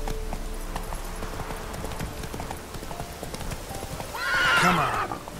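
Roach, Geralt's horse in The Witcher 3, clip-clops along with steady hoofbeats before letting out a loud, close whinny near the end.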